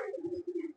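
Malwai pigeon giving a short, low, close coo lasting under a second and ending in a brief rustle.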